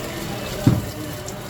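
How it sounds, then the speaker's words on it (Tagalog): Strong flow of running water, a steady hissing rush over a brief 1.6 seconds with a small bump in the middle. "Ang lakas ng tubig dito."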